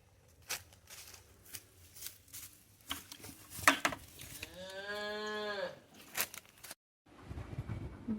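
A cow lows before morning milking in a village shed, one long drawn-out moo in the middle among scattered shuffling and knocks, fairly close and loud, followed by a short silence and faint rustling.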